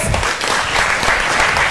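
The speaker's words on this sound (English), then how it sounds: "Give a hand of applause" Steady applause from an audience at a Kenya Film Classification Board event, a dense, continuous wash of many hands clapping close and loud, with no voices standing out above it.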